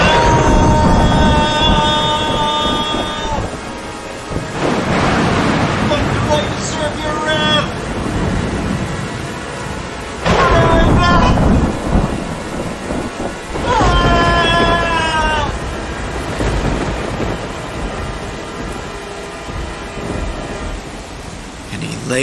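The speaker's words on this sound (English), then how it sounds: "it fell in torrents with blinding lightning and roaring thunder" Rain hisses steadily while deep rolls of thunder rumble in repeated bursts, loud and booming, with tonal swells between them.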